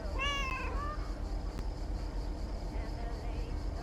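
A small cat gives one clear, rising meow near at hand, followed by quiet room background.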